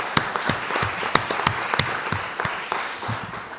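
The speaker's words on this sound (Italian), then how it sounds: "io vi invito laicamente a un applauso" An audience at a Sunday morning talk at the Ateneo Veneto in Venice applauds, a moderate, steady wash of clapping with a few sharper individual claps standing out.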